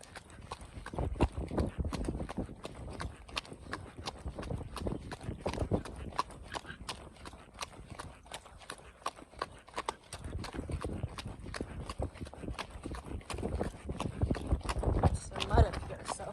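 Horse hooves on a dirt trail at a canter, recorded from the rider's position: a steady, rhythmic clip-clop of close hoofbeats continues throughout, with soft thuds and light rustling between strides.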